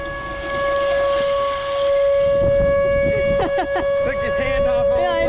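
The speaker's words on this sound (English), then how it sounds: "No Saturday would be complete without testing out the tornado sirens." An outdoor tornado siren sounds during a Saturday test in Oklahoma as a steady, loud, sustained wail, while nearby voices talk over it.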